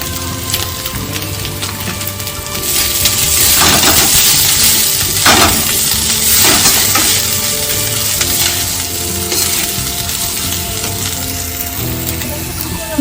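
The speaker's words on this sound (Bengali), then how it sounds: "মশলাটা কষানো হয়ে গেছে।" Spice masala with dried chilli powder and coriander powder sizzling and crackling steadily in oil in a village kitchen, with a brief louder spatter partway through.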